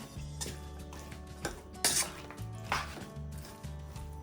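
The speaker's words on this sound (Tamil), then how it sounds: "இப்ப இத நான் நல்லா கலந்து விட போறேன்." Pieces of mutton are mixed with chilli and turmeric powder in a bowl, giving a run of close, irregular metallic clinks and scraping knocks, with no voices.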